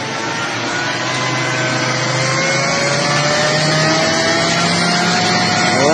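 An engine revs up to drive a 48-volt alternator, a loud, steady mechanical roar that climbs gradually in pitch over several seconds, close and continuous with no speech.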